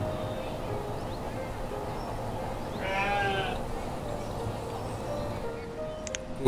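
A single sheep bleat from the village-building game Banished rises briefly over a steady background of game music and ambient noise, with a voice talking faintly underneath.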